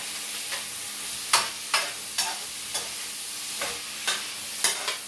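Potatoes for a savory potato soup simmer with a soft, steady sizzle in a pot, broken by a series of sharp clicks and taps from stirring, spaced about every half second, close by and with no talk.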